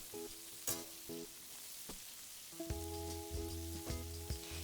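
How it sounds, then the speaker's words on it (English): Oil sizzling in a wok as shrimp are stir-fried, with scraping stirs and clanks of a utensil against the wok, plus a steady tonal hum in the background. "And keep stir frying"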